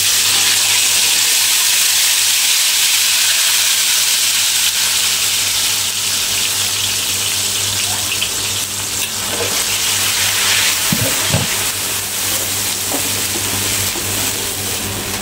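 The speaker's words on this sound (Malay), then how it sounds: "kita dah tumis dia, kita tunggu dia sampai dia pecah minyak, sampai dia garing" A loud, continuous sizzle of chili, shallot and ginger paste frying in hot oil, with occasional stirring and scraping sounds near the end.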